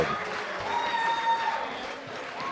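A crowd at the 2018 World Equipped Bench Press Championships, open men's 74-83 kg class, cheers and applauds a new world record lift, a steady, moderately loud wash of clapping and voices.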